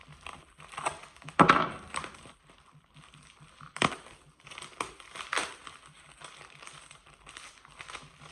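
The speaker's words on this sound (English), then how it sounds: "Remove the packaging." Plastic packaging is crinkled and peeled off an organic broccoli head in irregular close rustles and crackles, with a few sharper tearing bursts and quiet pauses between.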